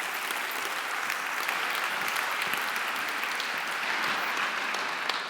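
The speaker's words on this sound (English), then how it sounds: "So please give a round of applause for the Minister of Women" Steady applause from a conference audience at a plenary session on sustainable financing, sustained and even throughout with no voices on top.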